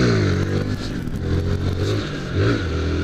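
A Honda Fan 150 motorcycle engine revs hard up close, rising and falling in pitch with a short dip in the middle, loud and rough with some mechanical clatter.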